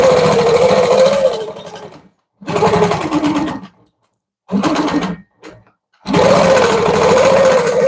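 Longarm quilting machine stitching in loud, close bursts of rapid mechanical whirring, starting and stopping four times with short silent gaps between runs.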